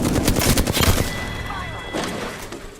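Rapid automatic gunfire in the Apex Legends battle game, a dense burst of loud cracking shots that fades into a lighter echoing volley and scattered reports.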